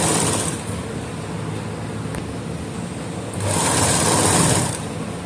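A sewing machine runs steadily as it stitches an undershirt, a close, continuous mechanical whir that grows louder toward the end. No talking is heard.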